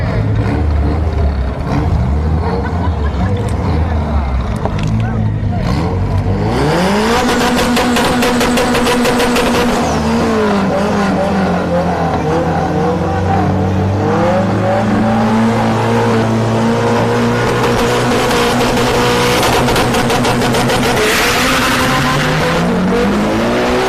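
A red Honda Civic launches at a no-prep drag race at Orlando Speed World, its engine rising from a rough idle into a loud, screaming rev that climbs and drops through gear changes and stays close and dominant.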